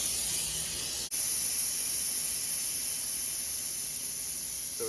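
Compressed air hissing steadily out of an Everlast 62i plasma cutter as the line is cleared, a loud, constant rushing hiss with one brief cut-off near the start.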